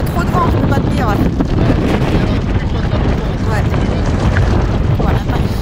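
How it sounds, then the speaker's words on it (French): Strong desert wind buffeting an outdoor microphone during a motorbike rally stage in the sands; loud continuous low roaring rumble with gusty surges, constant for the whole stretch. "Il y a trop de vent"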